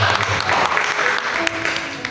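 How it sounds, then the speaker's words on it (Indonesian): A church congregation at an evening service breaks into applause, a steady wash of clapping with a few sharper claps, fairly loud and close. "Kita berikan tepuk tangan."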